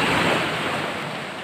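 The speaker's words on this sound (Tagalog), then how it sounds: "Ang alon, lakas ng alon, di ba?" Strong sea waves surge at a beach in steady, loud rushing surf, with wind buffeting the microphone and no talking.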